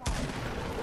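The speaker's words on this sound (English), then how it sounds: "That's me shooting." A single sharp gunshot from Fortnite gameplay, with a sudden loud crack followed by a short rumbling tail that fades into low background noise.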